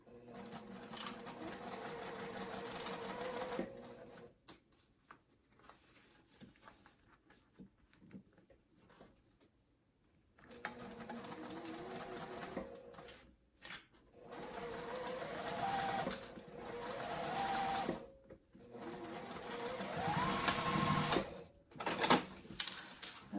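A sewing machine stitching down a crossbody bag at 0.5 stitch length, running in bursts of fast rattling whir separated by pauses of near silence.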